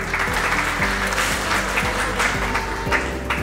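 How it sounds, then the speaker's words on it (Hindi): A crowd at an awards ceremony claps in welcome, a dense steady applause under loud rhythmic background music with a repeating bass pattern, continuing evenly for the whole stretch. "एक बार जोरदार तालियों से स्वागत करें श्वेता चंबवाल जी का"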